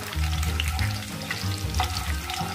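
Garlic fries over low heat in hot oil, a steady sizzle with a crackling, spattering texture, close and continuous, with a few soft stirring scrapes and no talking.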